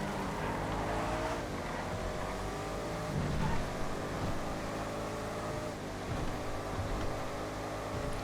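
Racing SUVs in GTA FiveM roar together in a steady, loud engine drone, a pack of revving motors holding constant with brief surges of acceleration throughout.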